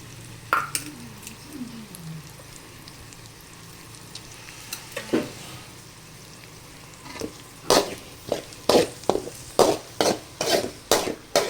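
Onion and spring onion fry in a pan under a soft background sizzle, while a spoon stirs and scrapes against the metal, starting with scattered strokes and building to a quick, regular series of clanks near the end.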